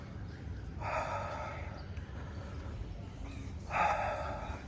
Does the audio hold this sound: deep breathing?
yes